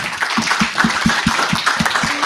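An audience claps for a panel at a conference session, short brisk applause heard close and moderately loud with no talking over it.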